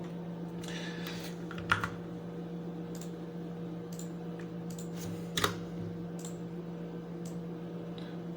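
Soft clicks of a computer keyboard as a file name is typed, scattered keystrokes in short runs over a steady low electrical hum, with two slightly louder taps.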